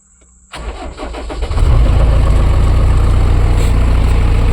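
A JCB earth-mover, just repaired, cranks briefly and fires up, its heavy diesel settling into a loud, steady low idle that holds to the end.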